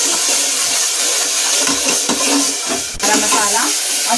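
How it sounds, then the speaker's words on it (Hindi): A spoon stirs masala of chopped tomatoes and green chillies frying in a pan, giving a loud, continuous sizzle with scraping strokes throughout and a sharp clink near the middle. "और इस मसाले को मैं अच्छी तरह से भून लूंगी।"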